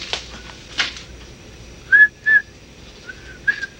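A man whistling the tune Camptown Races: a handful of short, sparse, bright notes spread over a few seconds, moderately close, with light clicks and rustles in between and no speech.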